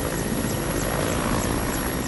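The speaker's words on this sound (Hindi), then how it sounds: "चारों तरफ सफेद बर्फ के बीच वायुसेना का एक हेलीकॉप्टर उतर चुका है और लोगों को रेस्क्यू कर रहा है।" An Indian Air Force helicopter landing amid snow at high altitude in Lahaul-Spiti, Himachal Pradesh, its rotor and engine roaring loud and steady throughout with no voices.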